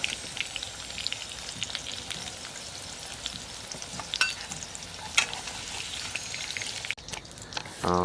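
Potato pieces fry in hot oil in a home kitchen, a continuous close crackling sizzle with scattered sharp pops and occasional spatula scrapes, briefly interrupted by a clatter near the end.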